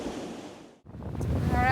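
Sailboat pushing through choppy waves off the Isle of Skye in a 12-knot wind, with steady broadband wash and rushing wind noise, a brief lull midway, then a louder surge of water against the hull.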